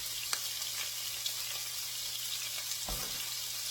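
Shrimp frying in a pan, the first of two batches, with a steady quiet sizzle and a few soft clicks and one louder clatter near the end, no talking.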